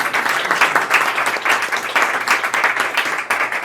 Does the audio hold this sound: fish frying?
no